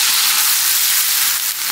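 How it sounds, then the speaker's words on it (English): Chicken breasts fry in olive oil with a loud, steady, close sizzle and no talking over it. "Want to be frying in olive oil."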